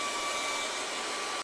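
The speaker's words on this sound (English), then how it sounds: "we'll just get the hairdryer on this and give it a dry so as I can put the moon on." A hairdryer blows steadily and loudly at close range over wet acrylic paint on a boat house painting, a constant breathy whirr with a faint tonal whine, switching off at the very end.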